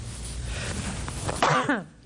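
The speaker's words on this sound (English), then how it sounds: "Excuse me, I'm going to sneeze." A person sneezes once in a courtroom, a short sharp burst after a quiet buildup, close to the microphone.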